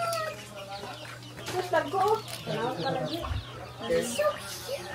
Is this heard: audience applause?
no